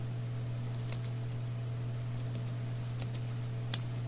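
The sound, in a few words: typing on a computer keyboard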